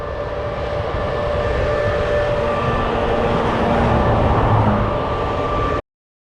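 A road train truck rumbles past on the Bruce Highway in the cold early morning, a loud, sustained low roar with tonal engine and tyre whine that holds steady before cutting off abruptly.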